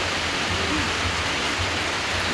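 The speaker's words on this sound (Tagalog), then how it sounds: "raining." Rain pours down in an even, steady hiss that stays constant throughout, with no voices over it.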